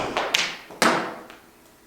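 A golf ball struck with a Callaway Mavrik Max driver: a couple of sharp, close impact cracks with brief ringing decay, heard alone without talk.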